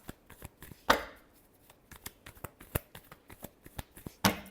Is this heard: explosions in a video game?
no